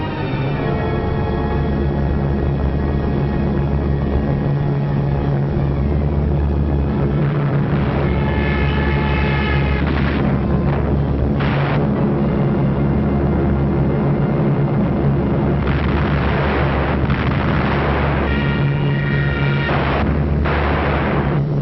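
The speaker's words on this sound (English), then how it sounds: "So the Germans brought up their bombers." German bombers in a wartime air attack make a continuous heavy droning roar, with rumbling booms and blasts rising out of it at intervals throughout.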